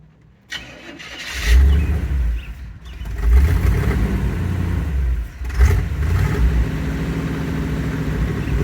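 A Chevy van engine revs and roars close up after a start, surging in loud waves with a brief dip midway, then holding a steady rumbling drone.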